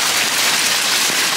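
Hail falls on a shade cloth over a succulent garden, making a dense, continuous hissing patter at an even loudness with no voices.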